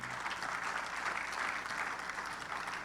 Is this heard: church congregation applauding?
yes